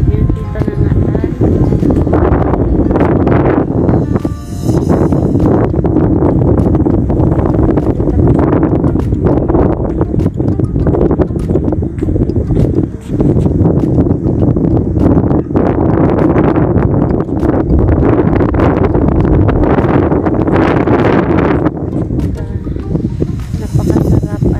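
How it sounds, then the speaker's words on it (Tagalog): Strong wind buffets the microphone continuously, a loud roaring rumble that surges and dips throughout. "ang lakas talaga ng hangin."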